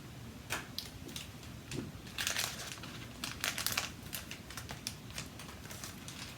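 A paper instruction pamphlet for neck pads is handled close by, giving quiet, irregular crinkles and rustles with a few sharper bursts of crumpling.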